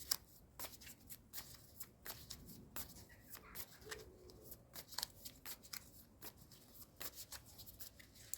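Tarot cards shuffled close by make soft, repeated riffling and flicking bursts in an uneven rhythm. The sound is quiet and plays alone with no talk.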